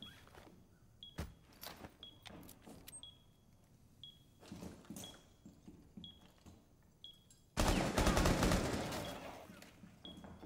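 A loud breaching charge detonates in Rainbow Six Siege, a sudden broadband blast that sustains as a roaring rumble after scattered gunfire cracks and clicks earlier in the scene.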